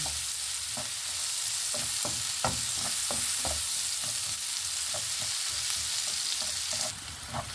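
Onion and garlic sauté in a pan for shrimp, a steady loud sizzle running throughout with frequent spatula clicks and scrapes.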